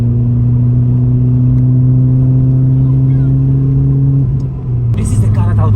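A Renault Clio RS engine hums steadily while cruising on twisting Namibian roads, its pitch dropping as a gear change comes near the end, followed by a brief burst of road and wind noise, close inside the cabin.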